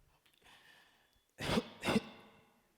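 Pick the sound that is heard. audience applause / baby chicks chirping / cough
cough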